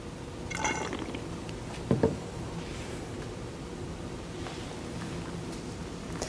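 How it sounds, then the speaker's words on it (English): Distilled water rinsing through a glass pipette into a waste beaker in a lab, a soft continuous liquid trickle with a brief splashier burst near the middle, fairly quiet. "using your distilled water, you will rotate it on the inside to make sure that all of the solution is rinsed out"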